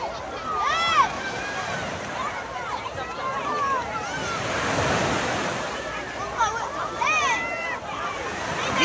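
Sea waves wash onto a beach in a continuous surge and hiss, with a swell in the middle. People talk close by.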